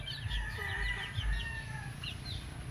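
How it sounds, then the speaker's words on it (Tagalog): One-month-old chicks on a farm peep and cheep in thin, rising calls, several overlapping over a low constant background hum. "pakita ko lang yung mga sisiw natin. So yan, 1 month old na."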